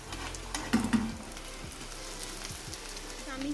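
Chicken shami kebabs fry in a pan, a soft steady sizzle with a few faint taps and clinks close by.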